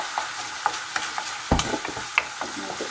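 Ground pork sizzles and fries in a pan for an eggplant dish, a steady crackle broken by sharp scraping stirs and clinks of the utensil, close and alone.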